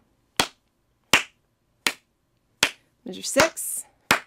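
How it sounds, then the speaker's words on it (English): Sharp, evenly spaced hand claps beating out a rhythm during a flute lesson, five crisp close claps with a short spoken count interrupting near the end. "Let's clap that rhythm one more time."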